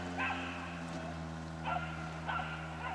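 A young dog sits and barks a few sharp times, spaced apart, over a steady low mechanical hum near the water.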